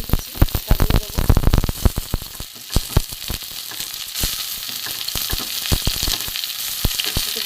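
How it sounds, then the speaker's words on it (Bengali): Bitter gourd and potato frying in a pan with mustard, close crackling sizzle broken by sharp spatters and stirring clatter, loudest at first and then settling into a steadier hiss. "একটু নেড়ে চেড়ে ভালো করে ভেজে নেব উচ্ছেটা"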